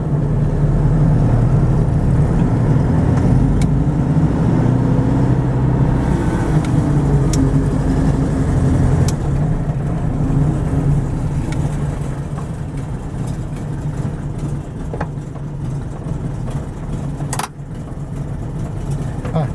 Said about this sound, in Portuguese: Esse é o barulho de um Fusca.